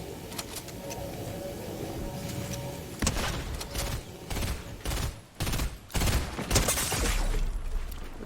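Gunfire in the Fortnite video game: a muffled ongoing rattle gives way to several sharp, loud bursts of shots separated by brief gaps.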